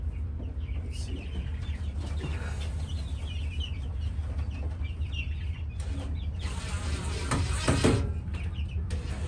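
Chickens cluck and chatter near a backyard coop, several birds close by in scattered bursts over a low constant background rumble, with a louder flurry near the end.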